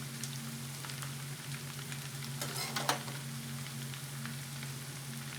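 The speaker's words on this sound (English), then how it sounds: "we're going to let that sizzle like that for just a couple minutes" Food sizzles steadily in a frying pan, a continuous close crackle with a constant low hum underneath and a brief louder spatter midway, no talking.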